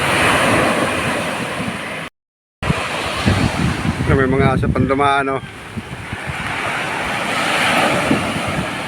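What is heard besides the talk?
rough sea waves on a beach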